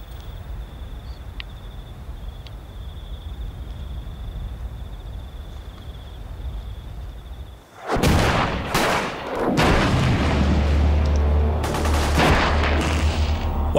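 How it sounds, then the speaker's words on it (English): Gunfire from soldiers of a New Zealand SAS patrol trading fire with the enemy: a quiet night with steady insect chirping, then sudden loud, dense bursts of shots and booms that continue to the end. "While some soldiers trade fire with the enemy, the rest of the patrol lay their charges."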